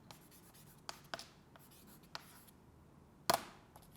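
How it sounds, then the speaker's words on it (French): Chalk or marker writing on a classroom board during a French grammar lesson: faint scattered strokes and taps, with one sharper louder scrape near the end, in a quiet room. "Je vais écrire terminer là."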